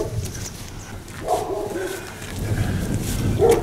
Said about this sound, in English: Oh, there's a dog barking at me now.